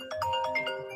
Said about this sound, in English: but there's a phone call